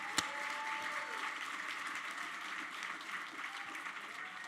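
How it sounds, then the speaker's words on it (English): An audience at an awards gala gives the nominees a round of applause: dense, even clapping fills the room from start to finish, with one sharp clap near the beginning. "if I could ask just for a quick round of applause for all of the nominees tonight"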